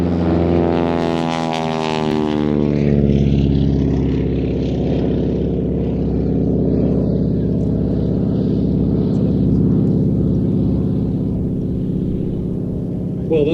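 A Super Stearman biplane takes off at an air show, its radial engine and propeller roaring loud and steady, with a rising then shifting buzz as it climbs away.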